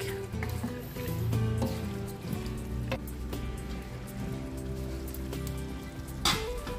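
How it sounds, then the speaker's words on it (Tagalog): Food sizzling in a hot pan as it is sautéed before broth or water goes in, a steady crackling hiss with scattered pops running throughout, close and continuous, with a brief louder spatter near the end. "Gisahin saglit"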